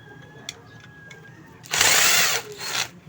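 A power drill backs screws out of an Astron electric fan. It gives one loud whirring burst lasting under a second, then a shorter second burst, over faint background noise.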